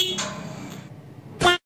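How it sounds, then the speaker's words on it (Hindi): A stock company-fitted motorcycle horn gives a short, loud honk near the end, preceded by a couple of fainter horn tones under a low background. "देखो अभी कंपनी वाला हॉर्न बज रहा है।"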